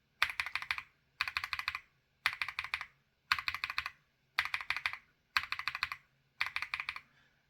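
Keystrokes on Durock Black Lotus long-pole, bottom-out stem switches come in seven quick bursts of rapid typing separated by short pauses. The clacks are close and crisp, with no talking.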